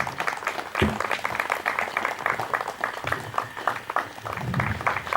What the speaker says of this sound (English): Let us welcome them with clapping hands